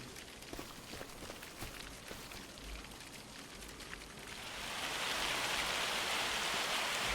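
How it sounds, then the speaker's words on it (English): Rain pouring down over farm fields in a farming video game, a steady hiss of falling drops that swells louder and denser halfway through and holds at full strength. "As the rain starts pouring down"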